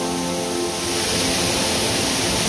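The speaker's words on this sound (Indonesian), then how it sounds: "Dan kita tiba di air terjun Malawar" The Malawar waterfall roars as a loud, continuous wash of rushing water, steady and close throughout with no voices.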